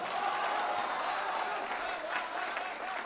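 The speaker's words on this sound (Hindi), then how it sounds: "आपके इन्हीं तालियों के साथ" An audience at a literature festival applauds steadily, a dense wash of clapping from many hands at a moderate distance.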